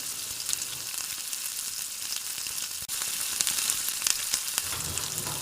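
White sesame seeds crackle in hot peanut oil with mustard seeds for a handvo tempering, a continuous close sizzle dotted with bright pops, briefly dipping then swelling louder midway, with no talking.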